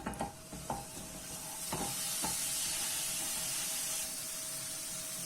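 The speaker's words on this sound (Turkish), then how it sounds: "Doğradığım şeftalileri tavaya alıyorum." A few sharp clatters as chopped peaches drop into a pan, followed by a steady hissing sizzle of the fruit cooking.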